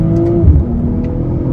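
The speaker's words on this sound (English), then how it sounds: "The way that this turbocharged six-cylinder pulls up top, it's almost like a naturally aspirated engine" A 2024 BMW M440i's turbocharged six-cylinder engine accelerates hard under load, a loud steady growl with a rising tone that continues for about a second and a half without any voices.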